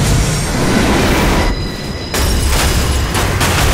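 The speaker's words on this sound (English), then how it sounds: "Train crashing, train dying" Train crashing in the video game Remember Me, a loud roaring, screeching rush of rail noise that cuts out briefly before surging back with heavy rumbling and grinding, with no talking.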